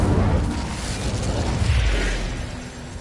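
Incendio fire spell cast in Hogwarts Legacy, a burst of flame that swells into a heavy, rumbling whoosh and slowly fades, loud and close with no talk.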